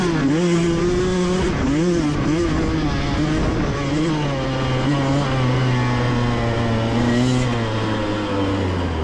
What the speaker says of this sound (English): let you hear that 2-stroke sing